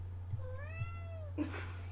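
A tortoiseshell cat gives a single clear, drawn-out meow, rising then falling in pitch and fairly close, with soft thumps just before and after over a low steady hum.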